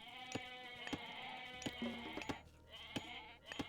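Goats bleat in short, wavering calls in Age of Mythology Retold, several overlapping, alongside sharp clicks and a steady game tone in the background.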